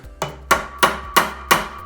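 Five sharp metallic taps of a hammer on a 17mm socket, seating a fixed gear adaptor onto a Lemond bicycle axle, evenly spaced and close, each with a short ringing tail.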